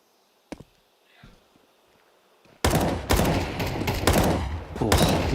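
Bursts of rapid gunfire from a Counter-Strike match, a single sharp shot and a soft thud, then a quiet pause before sustained, loud automatic firing with overlapping reports and brief gaps.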